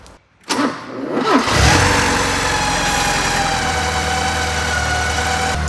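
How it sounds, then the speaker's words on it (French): A Porsche 944 2.5 engine cranks briefly, catches and settles into a steady, even idle with a faint belt squeal, close and loud after a fresh timing belt job. "maintenant c'est le moment du premier démarrage après le petit calage de la distrib"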